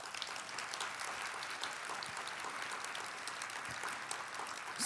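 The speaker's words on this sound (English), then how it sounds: "let's give all of our nurses a round of applause" A crowd at a nurses' awards ceremony applauds steadily, a dense wash of clapping at moderate volume lasting several seconds with no voices over it.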